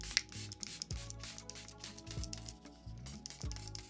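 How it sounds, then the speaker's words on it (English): Several quick, soft hissing bursts of makeup setting spray onto a face, spaced about a second apart, close and fairly quiet, alongside light rubbing and handling noises. "give my face a good spray"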